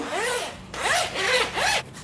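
The zipper on a Zeel women's single-layer raincoat is run back and forth in three quick, raspy strokes, close and clear, with no talking.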